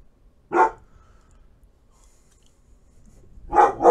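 An ill dog gives two short, sharp barks, one early and one at the end, separated by near silence, heard indoors at moderate distance.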